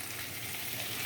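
Whole cumin and turmeric fry in hot oil, giving a continuous, even sizzle that sits close and fairly loud throughout the short stretch.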